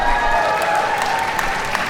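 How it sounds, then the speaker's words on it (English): A convention audience at Fan Expo Vancouver cheers and applauds steadily for an improvised tabletop game show, a dense, loud wash of clapping with voices mixed in throughout. "So, big cheer."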